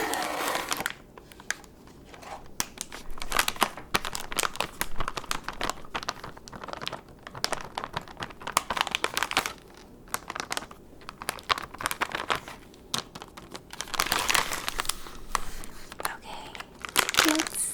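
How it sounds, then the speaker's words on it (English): A plastic bag container holding candy-making supplies crinkles and rustles in close, irregular bursts of sharp crackles separated by short pauses, with soft quiet talk at times. "This one is also in a container, like a plastic bag."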